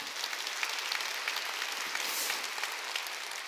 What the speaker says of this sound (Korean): 나는 내가 좋아서 하는 걸 믿으면 박수 쳐요.